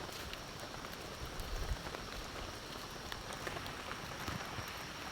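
Heavy rain falls steadily on surfaces on a village road, a dense continuous hiss with scattered drop patters, moderately loud and uninterrupted. No one speaks.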